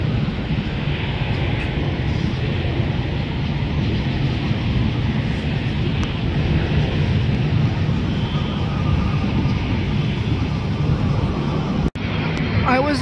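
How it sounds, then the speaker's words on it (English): A Qantas airliner in Oneworld livery, arriving from Sydney, passes over LAX on approach, its broad steady jet roar filling the air at constant loudness with some wind noise throughout. "Qantas One World livery arriving from Sydney, Australia."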